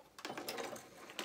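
A home sewing machine stitches through elastic on a pair of trousers, running forward and then in reverse in a brief close mechanical whirr with light clicking.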